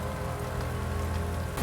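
Steady rain falls on a surface at night, a dense, even hiss of drops with no pauses, fairly quiet and unbroken by talk.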